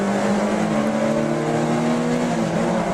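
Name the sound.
race cars starting, 750MC Stock Hatch championship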